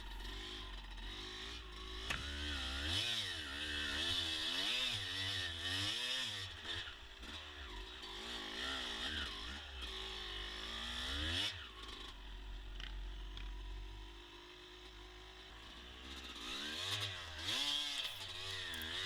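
Dirt bike ridden through a wooded trail, its engine revving and shifting up and down steadily, loud and close throughout with repeated throttle swells.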